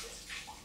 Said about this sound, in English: bucket of good warm water